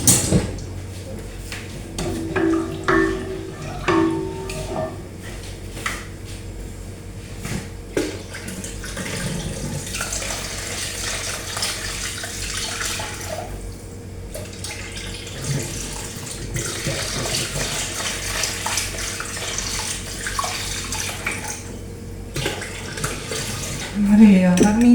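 Water runs steadily from a kitchen tap as cups of water are measured out, a continuous hiss with a few clinks of dishes and someone speaking now and then over it.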